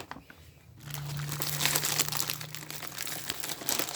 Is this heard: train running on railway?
no